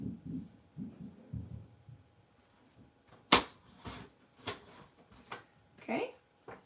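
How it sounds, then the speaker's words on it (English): A chair scraped out across the floor of a room overhead, a sharp loud scrape and thump followed by several fainter knocks and scuffs, with someone talking earlier. "Somebody who's sitting above me, when they pull their chair out"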